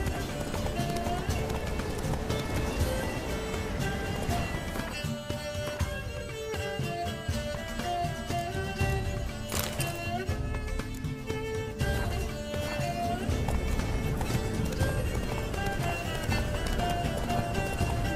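Roach the horse gallops in The Witcher 3 video game, steady rhythmic hoofbeats running under music and continuous character talk.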